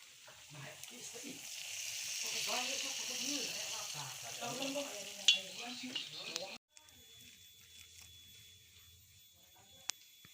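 Cireng, Sundanese fritters of tapioca starch (aci), fry in oil with a soft hiss beneath people chatting. The frying then continues alone as a faint, steady sizzle with an occasional small click.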